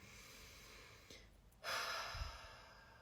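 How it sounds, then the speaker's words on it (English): A single slow breath is drawn in and then released as a long, soft exhale, quiet and close, with no other sound. "Take a nice deep breath in and out"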